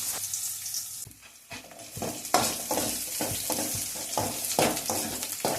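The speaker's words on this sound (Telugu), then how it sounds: "వీటిని బాగా వేయించుకోవాలన్నమాట" Chopped onions frying in a little oil in a pan, loud continuous sizzle close by, with repeated rhythmic scraping strokes of a spatula stirring them, and no voices.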